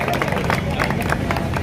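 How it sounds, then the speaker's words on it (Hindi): A crowd applauds a prize-winning girl at an outdoor sports festival award ceremony, with dense clapping mixed with crowd noise and a speaking voice over it. "जोरदार तालियां बजाएं"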